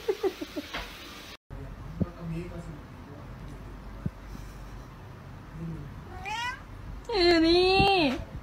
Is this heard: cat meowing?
yes